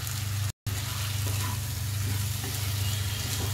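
Baby corn chicken frying in a pan gives a steady, close sizzle with a constant low hum beneath it, broken by one brief dropout near the start.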